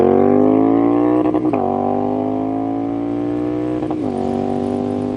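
A Triumph Street Scrambler 900 motorcycle engine holds a steady high-rev drone and twice bounces off the rev limiter, each hit a brief stuttering cut, loud and close.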